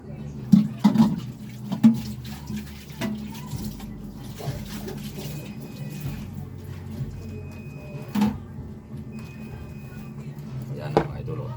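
Fresh anchovies rinsed under a running kitchen tap, with a steady splash of water and occasional clatter of handling, while someone talks over it.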